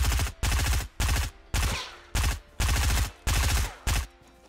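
Bursts of rapid automatic gunfire in Fortnite in quick succession, loud and close, separated by brief gaps.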